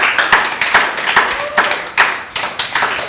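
Audience clapping for contestants at a school quiz contest, bursts of hands beating in a quick uneven rhythm, close and fairly loud, pausing briefly between rounds.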